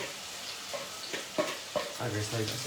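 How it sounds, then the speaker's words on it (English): Onions tossed into hot oil in a pan, a steady sizzle with several short scraping stirs and clatters building toward a louder, fuller fry at the end. "once that oil starts to get hot, we're just going to chuck all these onions in"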